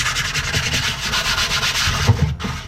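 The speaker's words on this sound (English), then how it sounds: "and start sanding" Wheel cover scrubbed by hand with wet 600 grit sandpaper in circular strokes, a steady close rasping rub with a rhythmic pulse, no voices.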